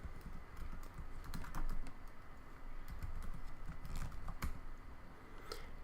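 Keys on a computer keyboard clatter in quick, uneven bursts as an SSH command with a remote username is typed, close and fairly soft with no talk over it.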